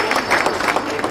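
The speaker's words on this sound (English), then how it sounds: "A big round of applause" Audience applause at a school's 80th anniversary celebration, a brief, dense burst of clapping mixed with crowd noise and cheering voices.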